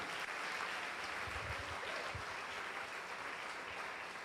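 Sustained applause from a church congregation, steady and dense throughout, with a few low thumps mixed in.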